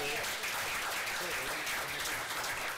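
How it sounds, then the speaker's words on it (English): Audience applause fills a city council meeting chamber, a steady wash of clapping that holds at a fairly even level throughout, with a faint murmur of voices underneath. "Give him a round of applause for all his hard work."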